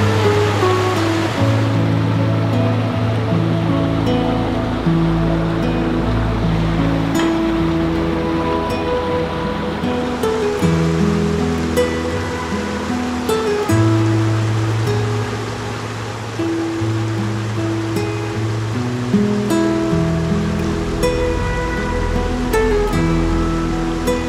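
A river flowing beside an outdoor camping spot in Bulacan, a loud, continuous rushing of water that stays steady throughout with no voices over it.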